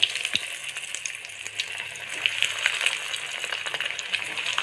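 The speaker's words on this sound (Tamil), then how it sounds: "நம்ம உருண்டையை போட்டு பொரிச்சு எடுத்துக்கலாம்." Vazhakkai kola, raw plantain balls, deep-frying in hot oil over a medium flame, giving a steady moderate crackle and bubbling with scattered small pops, no voices.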